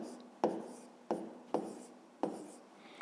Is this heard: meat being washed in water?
no